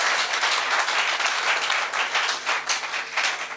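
Congregation applauding during a Friday church service, a dense, steady wash of many hands clapping together, loud and continuous with no voices rising above it.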